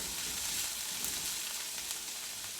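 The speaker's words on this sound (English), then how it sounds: "Just fry your onion in there." Steady crackling sizzle of onions frying in hot oil, continuous and close, with no voices.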